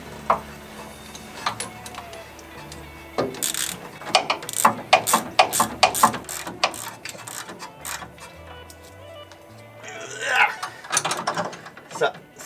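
A ratchet clicks in quick bursts while tightening a suspension part on a 1968 Camaro, close by, with repeated rapid clatters separated by short pauses and some metallic handling.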